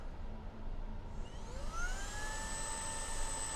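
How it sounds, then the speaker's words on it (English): A handheld 12V inflator runs in vacuum mode inside a Lucid Gravity, a steady whirring motor drone whose pitch climbs as it spins up, close and continuous with no talking. "you can turn on the vacuum"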